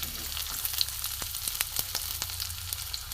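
Chopped onion frying in hot mustard oil in a heated wok, a dense steady sizzle with light crackling pops and a few stirring taps, close up.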